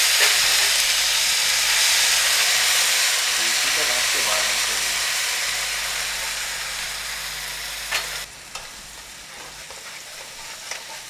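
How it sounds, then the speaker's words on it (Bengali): Loud, steady sizzling of ground onion paste frying in hot oil for egg korma curry, with occasional stirring scrapes; the sizzle eases slightly toward the end. "এর মধ্যে আগে থেকে বাটা পেঁয়াজগুলো ছেড়ে দিলাম।"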